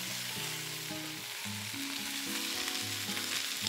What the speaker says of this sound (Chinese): 把它翻炒几下